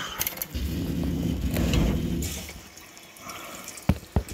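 A GE GDF630PSM4SS dishwasher with a failed pump boot starts up, water rushing inside for a couple of seconds before fading, then a few sharp mechanical clicks and knocks close by.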